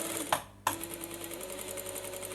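Sewing machine running steadily while stitching a trouser hem, a rapid even whir with a brief stop and restart partway through, close and alone.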